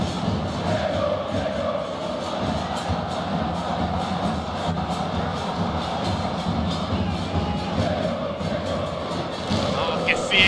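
South American football supporters of a tricolor team sing and celebrate in a stadium, a loud, continuous mass of chanting voices with scattered heavy thumps and bursts of cheering throughout.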